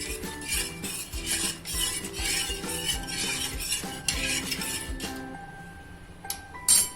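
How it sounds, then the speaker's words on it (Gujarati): A metal spoon stirs salted water in a cooking pot for boiled sweet corn, giving steady close clinks and scrapes against the sides that fade into quieter swirls near the end, with no talking. "તેમાં આપણે એક ચમચી નિમક નાખીશું અને આપણે બધું આ રીતના મિક્સ કરી દઈશું"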